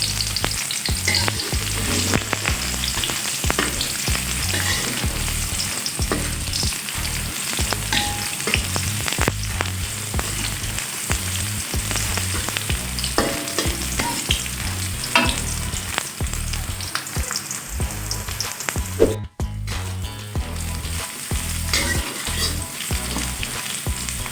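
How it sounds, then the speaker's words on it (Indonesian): Shallots sauté in hot oil in a pan, a loud continuous close sizzle and crackle lasting throughout, with steady stirring scrapes mixed in and no talk. "Kemudian kita tumis bawang merah. Kita tumis sampai harum."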